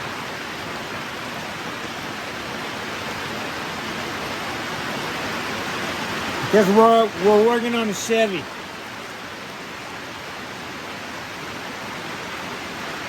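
Steady rain pours down in a continuous even hiss, with someone speaking briefly partway through.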